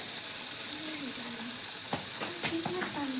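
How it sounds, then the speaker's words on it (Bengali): Chicken pieces stir-frying in a kadai, a steady close sizzle broken by a few sharp spatula scrapes and clatters against the metal near the end, with no talking. "চিকেনটা দিয়ে খানিকক্ষণ নেড়ে নেবো"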